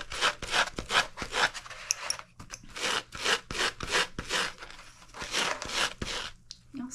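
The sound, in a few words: light sanding of UV resin on a wine glass bottom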